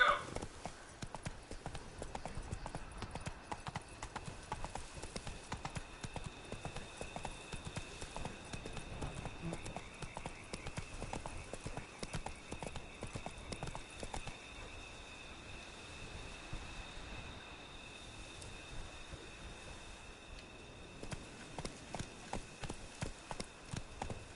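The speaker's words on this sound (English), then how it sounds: "Run, Roach" A horse gallops in The Witcher 3 video game, with rapid, steady rhythmic hoofbeats continuing throughout at moderate volume under a faint tonal game background.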